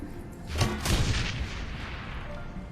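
Gunfire from the Shadowrun Hong Kong Extended Edition video game, a burst of booming shots near half a second and one second, then a rumbling tail of lingering combat noise.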